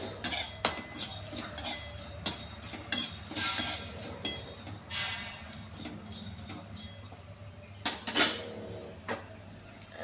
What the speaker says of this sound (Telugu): కొంచెం జీలకర్ర అండి, చింతపండు, కొంచెం దోరగా ఎగర్చాలండి బాగా.